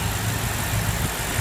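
A 4.4-liter direct-injection V8 in a 2014 BMW M5 F10 idles steadily with a low, even hum and mechanical whir, heard up close under the hood with no voices.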